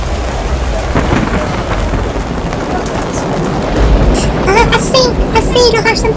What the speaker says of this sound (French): Assez, l'orage, ça me fait peur.